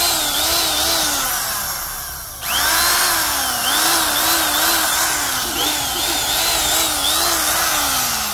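Japanese import aluminium-body electric drill, 100V 220W with a 10 mm chuck, running at full speed with a loud, close, steady whine that dips briefly and then surges back up, wavering slightly in pitch.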